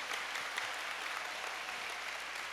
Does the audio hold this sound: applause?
yes